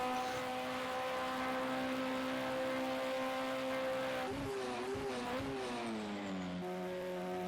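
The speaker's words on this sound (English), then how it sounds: "Oh, I love hearing that thing go down the gears." A race car engine drones steadily at the 24 Hours of Le Mans in a racing game, then blips and drops pitch in quick successive steps as it shifts down through the gears, loud and close.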